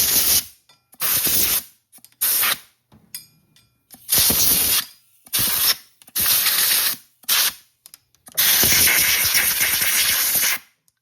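Compressed air blasts dirt out of the front brake caliper of a 2024 CFMOTO ZFORCE 950 Trail in a series of loud, close hissing bursts of varying length separated by short silences.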